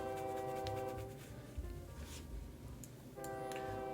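An ancient steam train in the OpenTTD transport game rumbles along steadily with a sustained horn-like whistle tone at the start and again near the end, a low chugging rumble in between.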